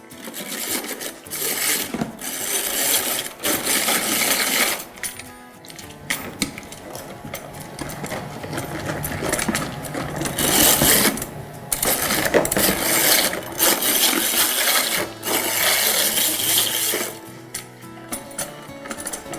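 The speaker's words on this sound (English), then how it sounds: "now we're going to mix that until it's nice and smooth" Gingerbread batter with a cracked egg being mixed until smooth, heard as steady mechanical whirring and clattering from a mixer, loud and continuous with brief pauses and no talking.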